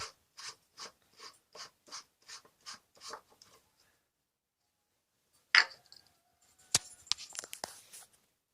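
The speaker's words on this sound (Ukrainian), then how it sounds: "Тепер відкручую пробку." A wrench ratchets rhythmically as the oil drain plug on a T-16 tractor with a D-120 engine is loosened: about ten even clicks, a pause, then a few sharp metallic clinks and rattles.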